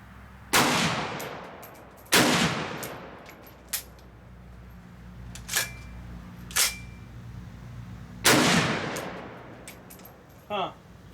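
Several gunshots ring out at a shooting range, with three loud sharp blasts spaced a few seconds apart and lighter clicks and clatter from the firearm between them, with no talking.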